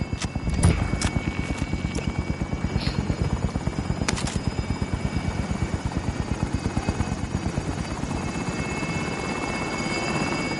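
A military helicopter in Call of Duty Warzone thumps with fast, steady rotor beats. It stays loud and close throughout, with brief sharp game sounds over it.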